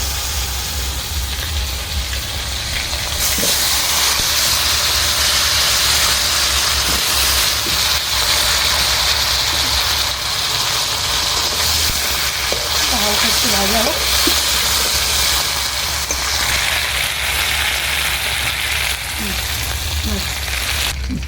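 Potatoes and radish hitting hot oil already used for frying fish, giving a loud, steady sizzle and hiss that runs throughout, with someone talking over it.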